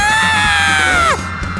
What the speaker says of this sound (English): The mother hears the scream!